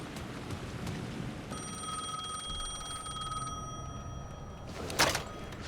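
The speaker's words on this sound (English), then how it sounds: "The phone was ringing again." A telephone rings in Alan Wake 2's lake house, steady electronic bell tones sustained for a few seconds over a low rumbling ambient bed, followed by a sharp brief clatter.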